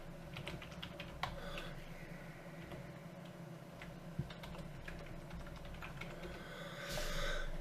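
Fingers typing on a computer keyboard, a quiet run of irregular clicks and taps at close range, with a couple of sharper key strikes and a soft rustle near the end.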